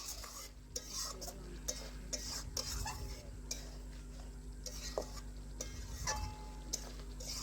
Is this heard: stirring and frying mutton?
yes